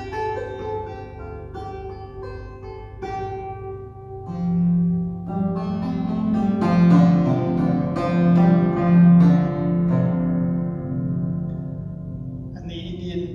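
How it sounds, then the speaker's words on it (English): Plucked koto-style strings on a custom 56-string instrument ring out in a series of resonant notes, with a warm, sustained low drone swelling underneath partway through and no talking. "Probably the most familiar in the West is the Japanese Koto."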